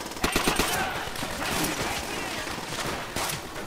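Enemy .50 cal machine gun fire in World at War rattles in a rapid burst near the start, then continues as a sustained, fairly loud clatter of shots mixed with battle noise, with no clear speech.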